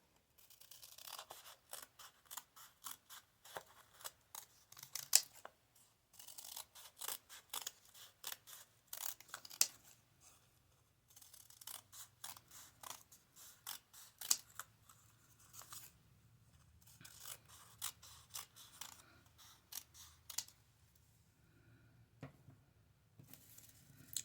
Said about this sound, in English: Go ahead and cut your strips.